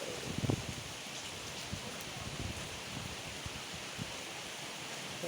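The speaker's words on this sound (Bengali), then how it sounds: "বৃষ্টিটা আসতেছে বেশি আসে না" Soft, steady rain patters in a continuous hiss, with a few brief rustling bursts near the start and no voices.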